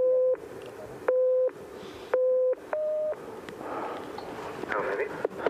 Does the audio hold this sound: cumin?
no